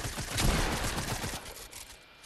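Rapid bursts of SMG fire from a competitive video game match, dense and loud at first, then thinning out toward the end of the burst sequence.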